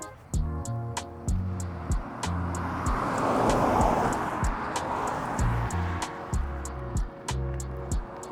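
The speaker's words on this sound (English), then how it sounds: "Let's let these vehicles pass because I don't feel like getting ran over on a pink e-bike." Cars roll past on the road in a broad swell of tyre and engine noise that builds and fades, with recurring clicking and humming from a nearby e-bike throughout.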